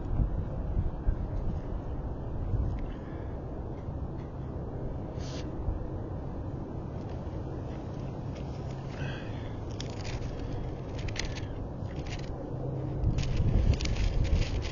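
Wind buffets the microphone in low, uneven gusts that swell louder toward the end, with faint scattered knocks and no speech.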